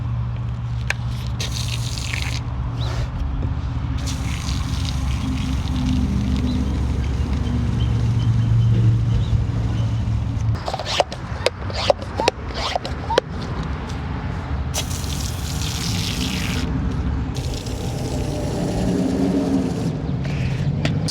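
A hand-pumped foam sprayer hisses and gushes steadily as it coats a car with P&S Brake Buster, with sputtering bursts, handling clicks and brief sprays in the latter half.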